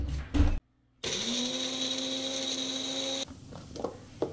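A kitchen blender grinds cocoa powder, dates and black raisins in a steady high whine for about two seconds, framed by brief clatter before and after.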